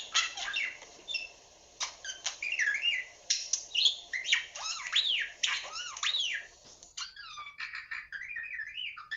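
Recorded budgie calls play as a rapid series of bright chirps, squawks and warbling whistles, close and fairly loud, with brief pauses between bursts.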